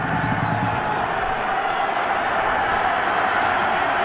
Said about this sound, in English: Crowd now up and making some noise here at Folsom.